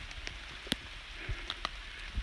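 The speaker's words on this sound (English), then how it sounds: "And it's raining." Scattered raindrops tap nearby surfaces in sparse, irregular hits over a soft, steady background patter in Dugger Mountain Wilderness, fairly quiet and with no voices.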